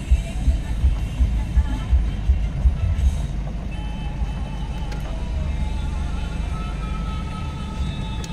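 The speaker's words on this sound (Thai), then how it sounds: "รถหกล้อนะครับเริ่มทยอยกันมา" Six-wheel dump trucks arrive in a hot rural schoolyard in Sangkha, Surin, with engines rumbling low and steady, a few faint reversing beeps, and brief background voices.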